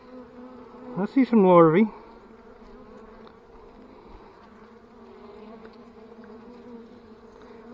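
Honeybees buzz steadily through an early spring hive inspection in West Virginia, a small cluster humming at close range as someone speaks over the colony throughout.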